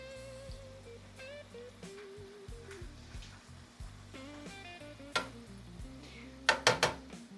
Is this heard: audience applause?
no